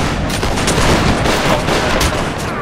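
Musket volley fire in a Napoleonic Wars game, heard as a dense, continuous crackle of many overlapping shots at close range, loud and unbroken.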